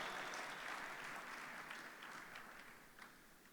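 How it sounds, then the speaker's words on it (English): An audience claps together at a talk on wealth creation, a broad wash of applause that starts full and slowly thins and fades over a few seconds. "it's a good place to clap if you want to do that"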